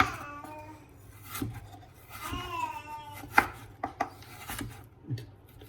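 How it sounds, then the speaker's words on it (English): A knife cuts vegetables into thin matchstick slices on a board, giving a handful of irregular, fairly soft chops and taps with some quiet rubbing between strokes. "you're going to cut it down into about 2 or 3 millimetre slices"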